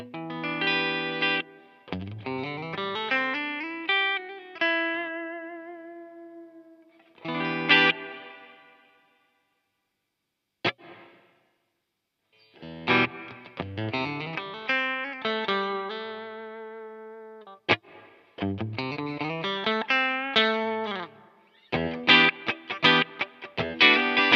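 A Cuvave guitar effects pedal set to reverb colours plucked electric guitar phrases and chords, each note ringing out with a lingering tail, the playing coming in loud bursts separated by brief silences.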